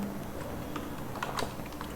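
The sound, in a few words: typing code on a computer keyboard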